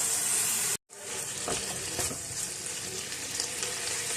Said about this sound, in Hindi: इसी दही के पानी के अंदर और चिकन का जो अपना पानी रिलीज होगा, इसी के अंदर ये चिकन कुक होगा